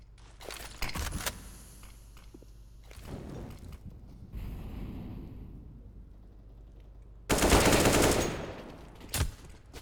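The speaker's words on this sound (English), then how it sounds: "Shots coming in from the destroyer." Gunfire in a Counter-Strike esports match, Beyond vs Ehome, with bursts of rapid shots, a sustained loud volley near the end and scattered single cracks between quieter stretches.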